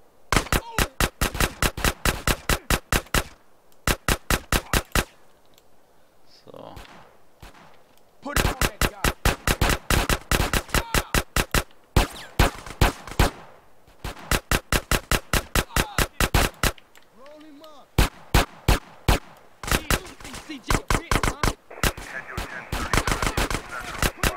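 Bursts of automatic gunfire in GTA San Andreas, in a graveyard shootout: loud, rapid rattling volleys repeat again and again with short quiet gaps between them, and faint voices are heard between the bursts.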